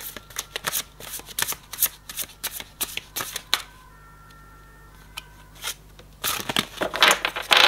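Tarot cards shuffled in rapid bursts of crisp riffling and flicking, close and loud, pausing briefly in quieter stretches before a final flurry of shuffling and drawing at the end.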